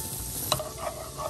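Minced garlic frying in melted butter in a pan and being stirred, a soft continuous sizzle with a brief scraping stir, quiet and close.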